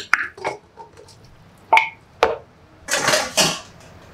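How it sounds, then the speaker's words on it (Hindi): Peas dropped into a pressure cooker in a home kitchen, heard as a few short close clinks and rattles against the metal pot, then a brief louder rush of peas pouring in near the end. "कुकर में हम डालेंगे मटर"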